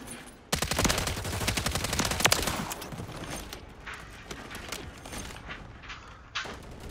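Rapid automatic gunfire from Modern Warfare 3 rattles in dense, loud bursts that taper into scattered shots and mechanical clacks, with a final sharp report near the end.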